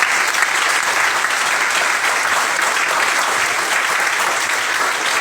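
A large audience breaks into loud, sustained applause at a business gathering, dense continuous clapping that fills the room evenly without a break.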